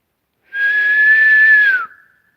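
One clear, loud sustained whistle on a steady pitch, ending with a slight downward slide, heard alone.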